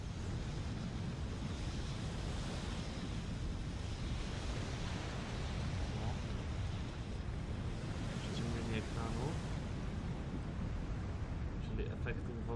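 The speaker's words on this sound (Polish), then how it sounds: "I słyszymy, jak woda idzie." Water flows and rushes in a constant, hissing stream in the castle underground of the video game Black Mirror, filling the whole clip at an even, moderate level.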